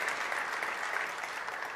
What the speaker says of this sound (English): Let's give the President a better round of applause.